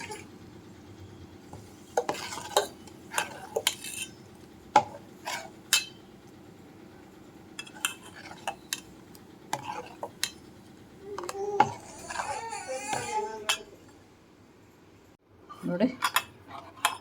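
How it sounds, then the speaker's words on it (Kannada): Buttermilk and cucumber mixture stirred in a vessel, a spoon scraping and tapping against the pot in irregular bursts, with quieter gaps, a brief swishing stretch and a short voice near the end. "ಉಳಿದಿರುವಂತಹ ಮಜ್ಜಿಗೆ ಹಾಕಿ ಮಿಕ್ಸ್ ಮಾಡಬೇಕು."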